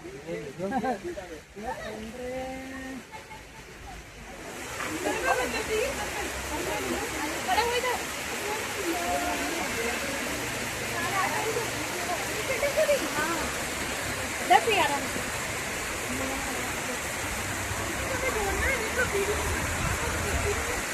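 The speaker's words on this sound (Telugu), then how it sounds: "అందుకనే బొటానికల్ గార్డెన్ వాటర్ ఫాల్ అని పెట్టారు" A waterfall at a botanical garden in Nainital, Uttarakhand, rushes as a constant broad wash of water, heard fairly close and steady while people talk over it throughout.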